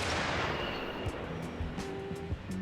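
Artillery fires in the video game Arma Reforger, a heavy booming blast up front followed by rolling, echoing rumble and a few fainter distant thuds and pops.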